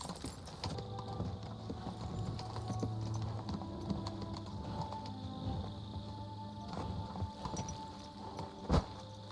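Horse hooves clip-clopping in Kingdom Come: Deliverance 2, a steady rhythmic trot with creaking tack and mechanical rattles, moderately quiet with a sharp knock near the end.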